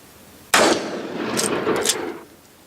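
A single loud, close shotgun blast at skeet, from a new shotgun being broken in, cracks out sharply and rings off in a long fading tail. No one speaks.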